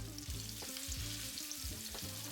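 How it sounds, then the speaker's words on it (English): Steady sizzling and crackling of a meat patty for Salisbury steak frying in a hot pan, continuous and close, with a few soft scrapes; no talking. "And that sizzle you get is nothing like it."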